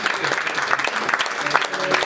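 A church congregation applauds and cheers for the Lord, brisk close clapping from many hands mixed with shouts and voices over a noisy room.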